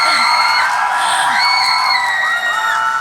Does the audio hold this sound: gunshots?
no